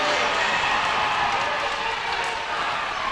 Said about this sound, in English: And the crowd liked that one.